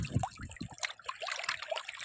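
Water from a village lake embankment splashes and trickles in a close, continuous burble, with small irregular bursts and gurgles throughout.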